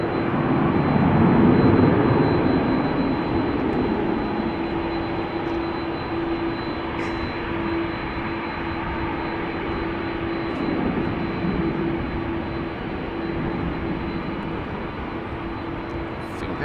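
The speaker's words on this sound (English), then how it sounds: "A330 that we're hearing" A steady, loud jet roar from an Airbus A330 airliner at Amsterdam Schiphol Airport on a rainy day, a broad continuous rumble with a faint tonal whine, swelling early and then holding level.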